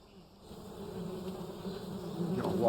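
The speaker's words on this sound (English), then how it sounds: "No, wasps." Wasps buzzing in the stealth game Metal Gear Solid 3 Delta, a close, continuous insect drone that swells gradually louder, heard alone without talk.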